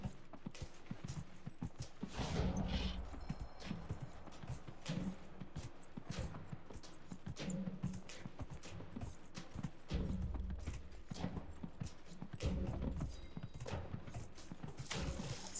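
Horse hooves clop in Dragon Age: Inquisition, a repeating rhythmic trot that swells and fades in bursts over a continuous outdoor background, with no talk.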